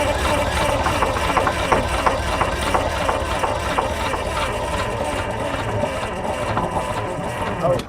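Engine of a 10-wheel logging truck running steadily after being coaxed to start, a continuous low rumble with a knocking texture throughout, and voices talking faintly over it.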